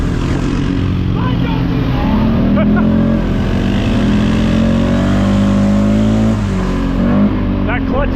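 Polaris Mud Edition off-road vehicle revving hard and steadily, with a loud continuous engine drone close up as its tires churn and throw mud, under occasional shouting.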